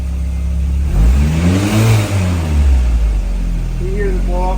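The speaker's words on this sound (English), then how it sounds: "you hear the blow off valve kicking off every once in a while." A turbocharged Mazda Miata engine revs up and settles back to a loud idle, with a blow-off valve releasing during the throttle changes. The car sounds close and steady throughout.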